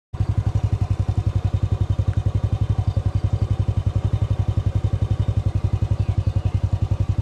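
A motorcycle putters along a rough village road, its engine thumping in a fast, even rhythm, loud and close, with faint clatter over the steady beat.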